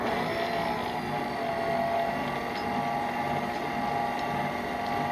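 A bread machine kneads a dough of yeast, milk and flour, giving a continuous, even motor hum and churning drone with no break.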